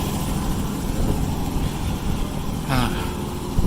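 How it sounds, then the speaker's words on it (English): A 1987 Nissan 300ZX engine runs steadily while driving, a continuous broad rumble mixed with wind noise at constant loudness, with a brief voice near the end. "Hope you guys can hear me over the engine and the wind."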